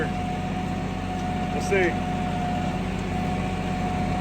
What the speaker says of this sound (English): I've had this tractor for 2 years now.